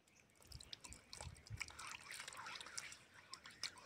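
Water trickles and splashes in small uneven pours over a deity's feet during an abhishekam ritual, soft and close with faint drips between gushes.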